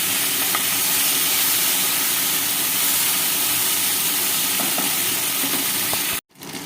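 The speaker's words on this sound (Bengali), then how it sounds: "এই তেলের মধ্যে আদা পেস্টটা দিয়ে দিলাম।" Ginger paste frying in hot oil, giving a loud continuous hiss and sizzle close to the pan that cuts off abruptly near the end, with no talk.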